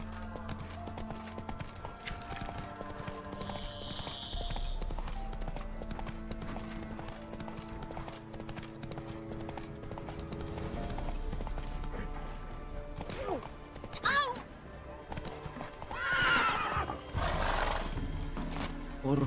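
Roach the horse in The Witcher 3 game, hooves clip-clopping steadily through a busy soundscape with a layered music and ambient bed, plus brief louder bursts near the end; no clear neigh stands out.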